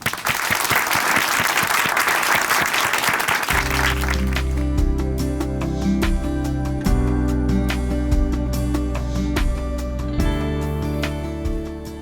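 An audience at a church gathering applauds as a speaker is welcomed, with a brief burst of dense clapping before sustained music with a steady low tone takes over and carries on under scattered claps.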